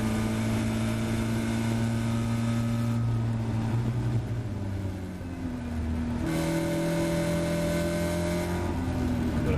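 Caterham race car engine droning at high revs on the Silverstone Grand Prix circuit, heard from inside the car, with pitch dropping on downshifts then climbing again as it accelerates, loud and continuous.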